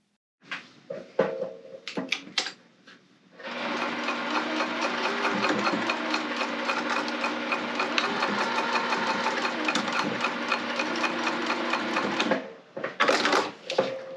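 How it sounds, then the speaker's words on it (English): A sewing machine stitching down tabs on a recessed-zipper tote bag runs in one long steady whirring burst, close and loud, with brief handling clatter before and after. "I'm gonna go sew these down now."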